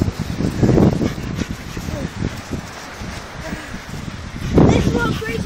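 A dog barks and whimpers at a seaside spot amid seaweed, with a few close yips and whines over rustling, loudest near the start and end, while people talk.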